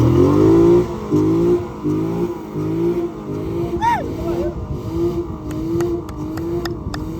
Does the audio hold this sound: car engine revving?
yes